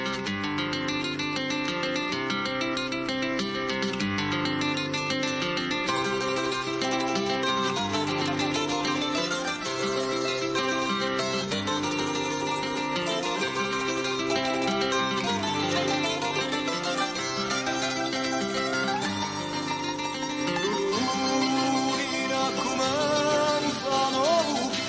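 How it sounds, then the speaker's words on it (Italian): A folk revival ensemble performs a Sicilian Easter confraternity chant, voices over acoustic instruments in a steady, full arrangement that plays continuously throughout. "voglio invece farvi sentire una rivisitazione di questo canto di confraternita"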